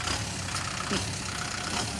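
A tractor engine idles steadily at a road construction site where six-wheel dump trucks unload dirt, a continuous low rumble that stays close throughout, with a voice faintly present underneath.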